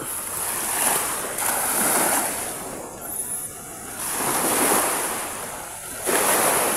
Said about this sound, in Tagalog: Laki ng dagat.